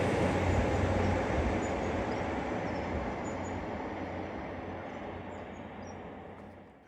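On New Year's Day a train rumbles past close by, a loud steady roar of wheels on rails that slowly fades over several seconds, with no voices.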